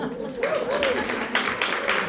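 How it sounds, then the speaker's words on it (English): Attendees at an International Women's Day celebration evening clap together, a brief indoor round of applause swelling in uneven bursts while a voice is heard over the start. "So give yourself a round of applause."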